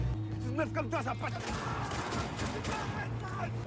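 A warning gunshot goes off in a film scene, heard as sharp loud bursts mixed with dense action sound effects and a low sustained tone, with voices running underneath.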